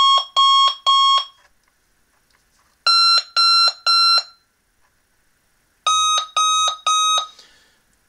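A Sonic Bomb alarm clock blares in three loud groups of three harsh electronic beeps, separated by brief silences, close and piercing with no voices.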